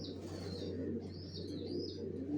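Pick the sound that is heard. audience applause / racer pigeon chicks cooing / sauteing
racer pigeon chicks cooing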